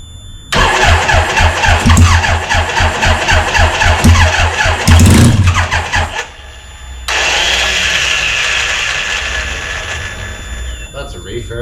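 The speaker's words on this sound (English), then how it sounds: "Alright, let's see if it starts up." A Suzuki RE5 rotary motorbike engine, just revived with a refurbished starter motor, cranks loudly in a rapid rhythmic chug for several seconds. After a brief drop it gives way to a steady, droning whir.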